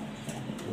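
A male pigeon coos briefly, two soft low calls close by over a faint steady background.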